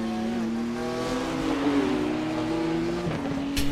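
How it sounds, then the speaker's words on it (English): Race car engine in iRacing during the 24-hour Nürburgring sim race, a steady harmonic drone that is loud and close, pitch holding then dipping slightly near the end, with no talk. "A decidedly less good sounding engine"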